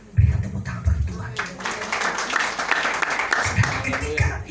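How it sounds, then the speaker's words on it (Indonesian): Church congregation breaks into applause during a sermon, a dense wash of clapping that swells quickly and carries on steadily, with voices mixed in. "Berikan tepuk tangan bagi Tuhan"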